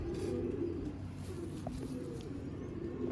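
A flock of Zeera pigeons coos steadily in a low, continuous throaty murmur, with the calls overlapping close by and no voices.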